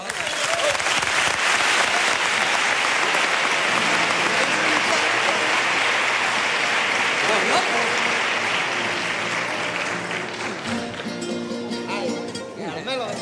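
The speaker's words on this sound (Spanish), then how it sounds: "el cariño, el aplauso de todos ustedes" Loud, dense audience applause at the Cádiz Carnival awards, continuous for most of the stretch and thinning toward the end as music and voices begin to emerge.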